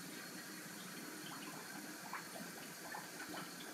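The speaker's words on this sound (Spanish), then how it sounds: "y colocamos agua del grifo" Tap water runs steadily into the reservoir of an INX-500 alkaline water ionizer, a soft continuous splashing hiss at close range with no talk.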